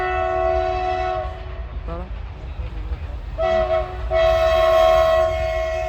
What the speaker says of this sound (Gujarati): આવી જશે રેલગાડી